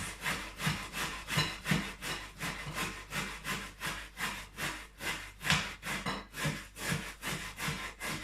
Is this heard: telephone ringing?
no